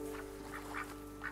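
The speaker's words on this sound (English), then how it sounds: "Oh, don't touch the birds." Birds in the video game That Dragon, Cancer give a run of four short, nasal quacking honks, close and fairly clear over a steady electronic hum.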